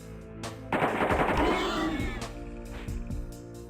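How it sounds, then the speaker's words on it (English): AK-47 gunfire in a video game: a loud, rapid automatic burst lasting about a second and a half, followed by a few fainter single shots and clicks. "The AK-47 is such an awesome weapon in this game"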